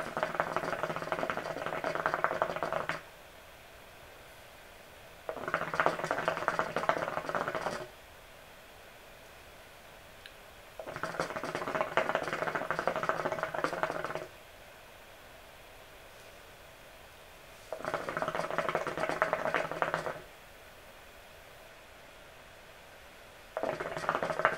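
Water in a hookah bowl loaded with Nakhla tobacco bubbles in steady roaring bursts during each pull, four or five long draws of a few seconds separated by quieter gaps, close and fairly loud.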